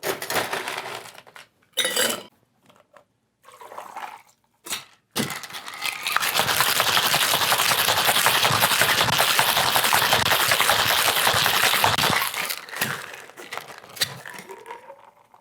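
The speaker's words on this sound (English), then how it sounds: "So we're gonna shake this cocktail." A cocktail is shaken hard with ice in a shaker, a few short rattling bursts building into about six seconds of loud continuous ice chatter, then tapering off with scattered clinks.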